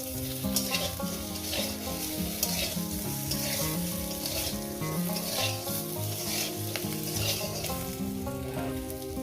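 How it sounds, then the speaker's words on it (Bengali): Potato and eggplant frying in hot oil for a Bengali fish curry, a loud, continuous close sizzle and crackle with occasional stirring clatter, alone with no talk. "আলু বেগুনটা কীভাবে ভেজে নিচ্ছি"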